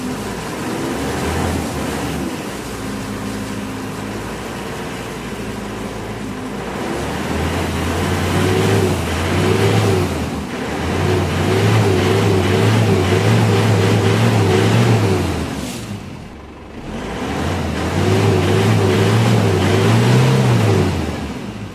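A close Isuzu Crosswind engine with a carbon-clogged muffler idles, then revs up in several long surges with brief dips between, loud and throaty, with no talking.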